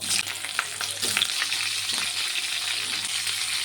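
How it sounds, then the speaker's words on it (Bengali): Steamed cauliflower hits hot oil in a pan with a loud, crackling sizzle that stays strong and steady, broken by a few sharper pops and stirring scrapes close by. "এই তেলের মধ্যে ভাপিয়ে রাখা ফুলকপিটাকেও ভেজে নেবো"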